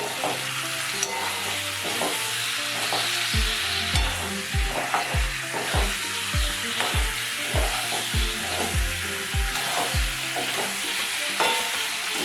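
Chopped tomatoes hit a frying pan for a desi-style pasta, giving a steady close sizzle with a run of regular scraping stirs and taps throughout, with no voices.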